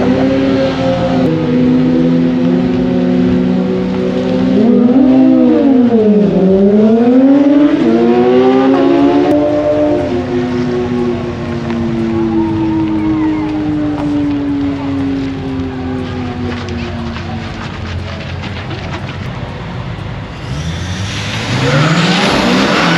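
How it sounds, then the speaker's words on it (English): A turbocharged FPV 335GT launches at a drag race, its engine revving up, dipping and then pulling hard through a long loud acceleration that fades as it drives away, with a fresh burst of revving at the end. "So he will be launching in second gear, and he'll probably be racing Brett in his GT gear"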